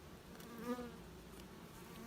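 Honey bees swarm over hive frames in a weak hive with a soft, continuous buzzing drone that swells briefly for a moment, close by and faint, with no voices.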